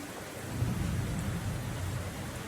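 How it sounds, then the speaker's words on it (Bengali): Rain falls just outside an open window while a light wind blows in, making a soft, steady hiss over a low rumble with no talking. "আর এদিকে বৃষ্টির শব্দ"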